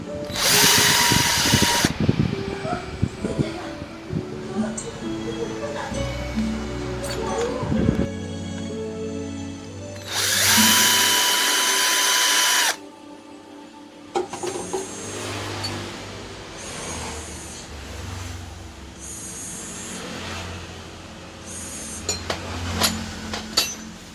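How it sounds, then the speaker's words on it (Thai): A power drill chamfers the front and back edges of bolt holes in a custom bolt workpiece. It comes in several loud whirring bursts between metallic clinks and handling noises. "เราก็ทำการลบมุมนะครับ ที่หัวรูของ ด้านหน้าและด้านหลังนะครับ"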